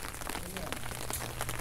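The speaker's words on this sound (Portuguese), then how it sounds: "Ainda continua chovendo, mas agora está dando uma chuva bem fininha." Light, fine rain falls steadily in a steady hiss with soft scattered drops during a chácara renovation in mid-February, continuous and fairly faint.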